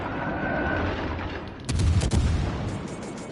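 Naval guns of the heavy cruiser Hipper firing in World of Warships Legends: a loud burst of gunfire rolls in midway through, with a couple of sharp reports over steady background rumble.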